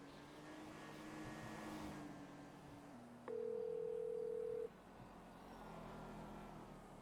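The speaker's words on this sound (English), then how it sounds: "I'm on hold." A telephone call on hold inside a car: faint road and engine hum runs throughout, broken by a single steady electronic tone lasting over a second midway, with no speech.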